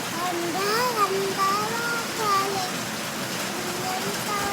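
Steady rain pours down on a rainy day, a dense broadband hiss filling the whole stretch while a voice and an adult talk over it.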